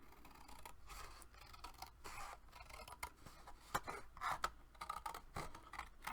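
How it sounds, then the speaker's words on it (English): Scissors snip through cardstock for a Valentine mini album, a quiet close series of sharp irregular cuts and rustling paper scrapes, with no voices. "I'm going to cut on the inside of the bump."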